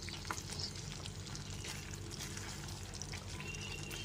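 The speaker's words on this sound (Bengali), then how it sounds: "আলু পটলের টুকরোগুলো দিয়েও খুব ভালো করে মিশিয়ে নিতে হবে।" Fried potato and pointed gourd pieces being stirred through a masala in a pan over a medium flame for a Bengali korma, with a soft, continuous sizzle and light scraping, fairly quiet.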